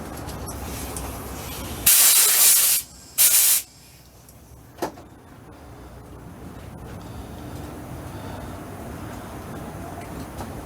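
Two loud bursts of compressed air blast off a snap ring on an old Craftsman ratchet during cleaning, a long hiss followed by a shorter one, then a faint click and quiet room noise.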